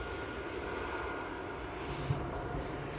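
A KLM airliner on the runway at Amsterdam Airport, its jet engines a low, steady, distant rumble heard evenly throughout with no voices.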